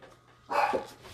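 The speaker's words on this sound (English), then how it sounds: "My little dog thinks something's going on. He's probably mad he's locked up." Small dog giving a single short bark from a room nearby, sharp and moderately loud after a brief quiet moment.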